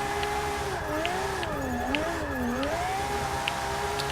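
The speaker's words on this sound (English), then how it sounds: "Get those wheels to spin up, heat up those tyres, get a bit of speed, and handbrake into the drift" Nissan Silvia S15 drifting on the handbrake in Forza 6: a steady, close engine drone whose pitch swoops up and down as the revs rise and fall through the slide, with no talk.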